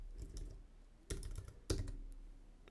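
Quiet keystrokes on a computer keyboard as a file name is typed, several soft clicks followed by two sharper, louder taps spaced about half a second apart.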